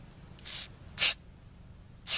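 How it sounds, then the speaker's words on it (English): MAF sensor cleaner sprayed from an aerosol can onto the mass air flow sensor of a 2005 Mazda MPV, three short sharp hissing bursts close to the microphone with quiet pauses between, and no talking. "So you're going to take your spray,"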